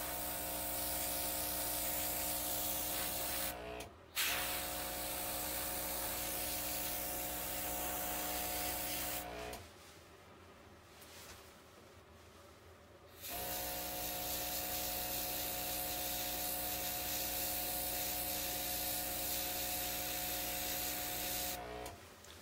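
An OPAWZ airbrush sprays dye onto a dog's fur during creative grooming, a steady close hiss with a compressor hum that cuts out briefly near four seconds and again for about three seconds mid-clip before resuming.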